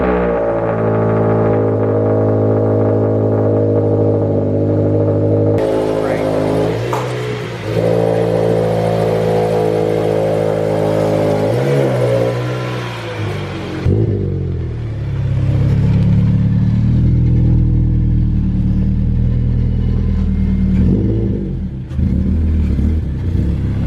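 A Subaru WRX engine fires on a cold start, then revs loudly in repeated surges before settling to a rumbling idle, close up with no talk over it.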